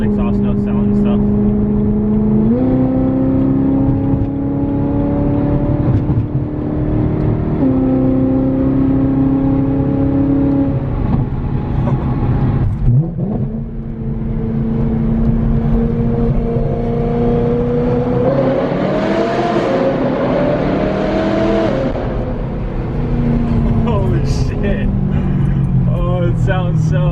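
A loud straight-piped BMW M3 exhaust revs repeatedly, the engine note climbing and dropping in steady blips, harsh and raspy, close by throughout.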